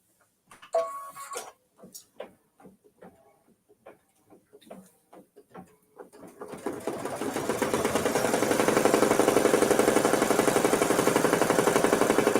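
An embroidery sewing machine stitches a satin outline on a mini-quilt project, first in sparse, uneven ticks and taps, then settling into a loud, fast, continuous rhythmic chatter for the last several seconds.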